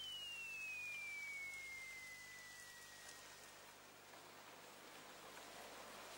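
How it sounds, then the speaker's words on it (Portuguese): Steady, close rain pattering continuously on a surface, with a faint high whistling tone gliding downward early on; no voices. "vou ficar aqui até a chuva parar"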